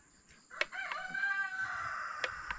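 A rooster crows loudly and close by, one long drawn-out call with sharp clicks and knocks around it.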